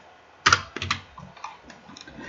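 Keys tapped on a computer keyboard while a name is entered into an online form, a sharp first burst of clicks followed by a few softer, scattered taps.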